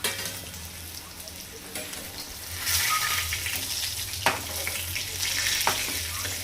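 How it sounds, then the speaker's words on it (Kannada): Bitter gourd shallow frying in a pan, a steady close sizzle and crackle of oil that swells midway, with a few sharp clinks of stirring. "ಒಂದೊಂದಾಗಿ ಫ್ರೈ ಶಾಲೋ ಫ್ರೈ ಮಾಡಬೇಕು"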